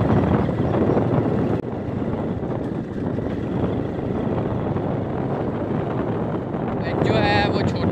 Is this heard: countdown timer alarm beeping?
no